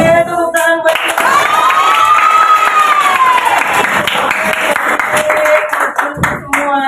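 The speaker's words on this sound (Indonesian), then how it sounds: "Oke, tepuk tangan buat kita." Schoolchildren in a classroom applaud themselves, a loud, close burst of clapping and cheering lasting several seconds, with a voice audible over the noise.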